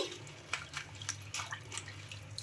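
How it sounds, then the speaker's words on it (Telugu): Sago pearls being washed in a bowl of water, soft splashing and light dripping with a few brief sloshes, close and quiet. "ఇంకా ఇందులోకి వాటర్ అయితే వేసుకొని ఒకసారి బాగా వాష్ చేసుకోవాలి"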